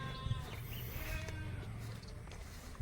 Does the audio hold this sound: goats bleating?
yes